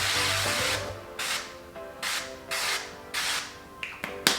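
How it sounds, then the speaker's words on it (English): Several short hissing bursts of nonstick cooking spray onto a baking pan, close by, coming in quick separate puffs with brief pauses, over a faint steady background hum. "We're gonna spray it with some nonstick."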